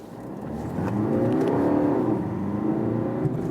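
A BMW 118d diesel hatchback in Sport mode pulls away hard from a traffic light, its engine note rising steadily as it revs up and holds a strong, close drone throughout.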